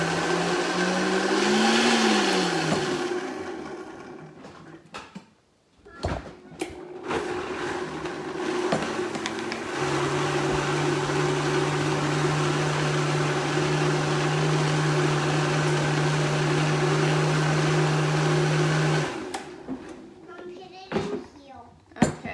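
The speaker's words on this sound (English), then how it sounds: "so we're going to blend this up, mix everything" A kitchen blender whirs through a peach pie smoothie, a steady motor drone that rises into a sustained high-pitched whine for about ten seconds before stopping, with family members talking around it.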